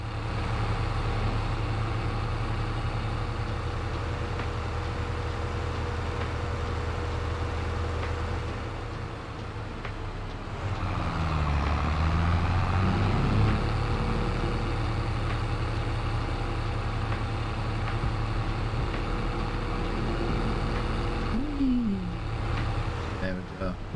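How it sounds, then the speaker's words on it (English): A loud tractor engine in a farming simulation game drones steadily throughout, a constant low rumble that shifts pitch midway as it revs and changes load, with someone talking over it. "I do apologise for how loud this tractor is."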